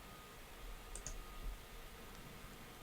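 A couple of quick, faint computer mouse clicks close together, heard against quiet room noise.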